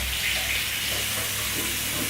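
Water splashes and pours steadily onto a floor as a cup empties, a continuous broadband hiss heard close and fairly loud with no speech over it.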